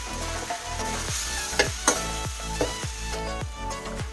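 Drumstick leaves frying in a pan for sambar, with salt added, give a loud continuous sizzle. Repeated scraping stir strokes sound roughly every half second, close up and with no voices.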